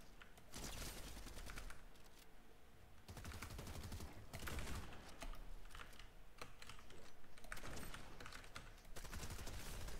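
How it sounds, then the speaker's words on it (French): Bursts of rapid gunfire from the video game Fortnite come in several loud clusters with brief gaps between them, set over a steady background of game noise. "Ça tire là-bas où j'étais"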